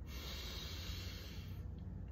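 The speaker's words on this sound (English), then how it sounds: "inhale from your nose, exhale from your nose or mouth" A person breathes deeply in and out through the nose, producing a steady, airy rush of breath that holds for about two seconds, close and fairly quiet, with no talking.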